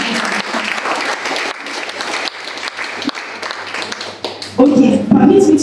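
Audience applause at a girls' education panel event, a steady wash of clapping from a crowd that swells louder toward the end.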